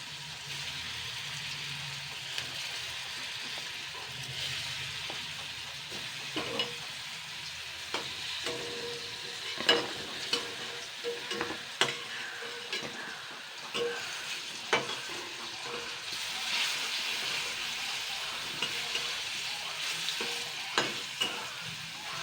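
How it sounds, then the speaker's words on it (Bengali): Chana dal fritters (jolbora) fry in shallow oil, giving a soft, continuous sizzle with scattered small pops and crackles, fairly faint and with no voices. "সব বড়াগুলোই আমার কিন্তু ভাজা হয়ে গেছে দেখুন লাল লাল করে ভেজে নিয়েছি"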